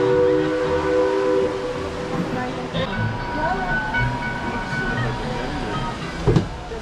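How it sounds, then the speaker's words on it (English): Rumbling, clanking train cars on the Georgetown Loop Railroad roll along steadily, with a metallic squeal and a brief louder clunk near the end, and voices murmuring in the background. "Those of you on board the train, please roll the slack out of the cars."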